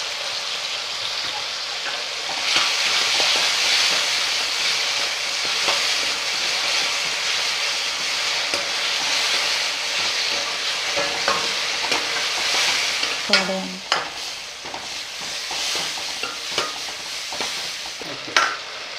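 Chopped tomatoes sauté with salt in a pan, a constant close sizzle and hiss broken by frequent scraping stirs and a few sharp spoon knocks on the pan toward the end.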